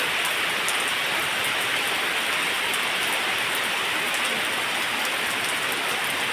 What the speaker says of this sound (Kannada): ಮಳೆ ಬರ್ತಾ ಉಂಟು ಗೈಸ್ ಮಳೆ ಬರ್ತಾ ಉಂಟು